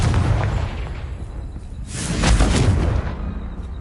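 A Confringo spell explosion in Hogwarts Legacy, a dense booming blast that swells to a louder rumbling peak partway through and then settles into a sustained roar.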